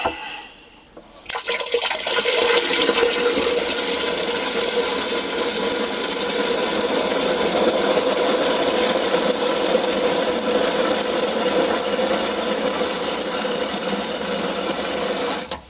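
Water pressure is released from a whole-house water filter housing. After a short quiet start, a loud, steady rush of hissing water sets in abruptly and holds constant for about fourteen seconds before cutting off.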